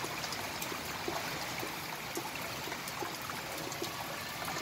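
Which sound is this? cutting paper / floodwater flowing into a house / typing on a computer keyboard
floodwater flowing into a house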